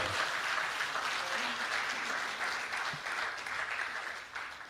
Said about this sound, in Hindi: अच्छी बात पर अच्छी तालियां बजनी चाहिए